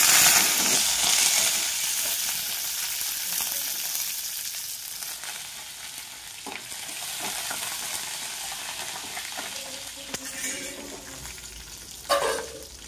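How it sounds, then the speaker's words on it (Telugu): Cumin, mustard seeds, curry leaves, garlic and green chillies crackle in hot oil for a tempering over an ivy gourd chutney, a loud continuous sizzle that softens over time, with occasional stirring clinks. "దానికి పోసు పెడదాము. కొన్ని జీలకర్ర ఆవాలు వేయాలి, కరివేపాకు, ఎల్లిపాయలు, ఒట్టిమిర్చి."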